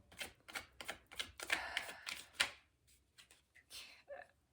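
Tarot cards being shuffled by hand produce a quick, quiet run of crisp riffling flicks and papery slaps in an irregular rhythm, close by and faint, with no talking.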